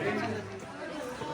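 A dense crowd of visitors mills at the main gate of Raigad Fort, with steady overlapping chatter and babble close by that continues for the whole moment.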